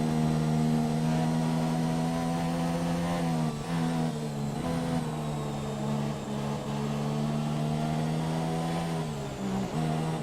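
Red Bull Formula One car engine in the racing game F1 2017 at the China circuit, a steady loud high-pitched whine holding near-constant pitch with brief dips as revs drop and recover, no voices.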